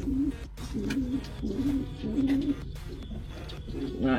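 Pigeons coo inside a drum in a series of repeated, close, resonant coos, each a few rolling pulses, with small bumps and rustles between them.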